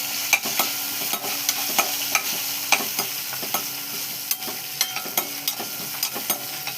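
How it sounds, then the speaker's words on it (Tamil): Curry leaves and a green chili frying in oil in a pan, a steady close sizzle broken by repeated scraping clicks of a spoon stirring against the metal in an uneven rhythm. "இதெல்லாம் அப்படியே வந்து நல்லா ஒரு மிக்ஸ் பண்ணிடுறோம்."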